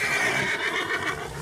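A horse in Red Dead Redemption 2 lets out a loud, close whinny, a wavering high neigh that trembles and fades over about a second.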